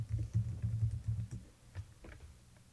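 Computer input clicks while selecting two EC2 web servers in the AWS console: a close run of soft taps and clicks, busier at first, then a few sparse clicks trailing off.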